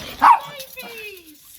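A dog gives one sharp bark at close range, then a long whine or whimper slides downward while a person talks over it.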